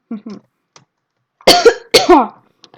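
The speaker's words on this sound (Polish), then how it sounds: "to ja będę trochę kaszlał, bo ten... Bo trochę chory jestem" Several harsh, close coughs, a couple of light ones followed by two loud throat-rasping bursts, in an otherwise quiet room.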